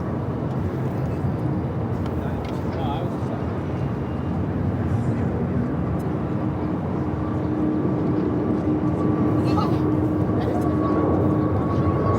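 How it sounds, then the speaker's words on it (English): Frontier Airbus A320neo jet rolling for takeoff at LAX, a steady broad engine roar holding loud throughout with a faint tonal whine riding on top. "That is Rocket the Hammerhead Shark taking off to Phoenix. Frontier 3304 on the A320neo."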